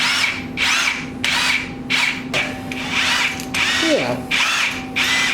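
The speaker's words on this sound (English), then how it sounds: "He is now drilling into the head." Power drill boring holes into an RB25DET engine cylinder head, with repeated loud bursts of whining drilling separated by brief pauses, close up, plus a mechanical ratcheting sound and a short spoken word.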